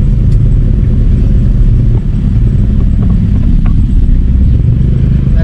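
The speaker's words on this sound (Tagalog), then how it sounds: "nagkakaroon na rin ng traffic dito." Continuous road traffic rumbles past on a busy street at night, a dense steady mix of car and motorcycle engines with occasional clattering, no voices.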